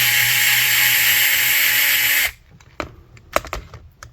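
Power screwdriver driving a screw to mount a steering servo on a Losi LMT RC monster truck, a steady loud whir for about two seconds that cuts off abruptly, followed by faint clicks and handling noises.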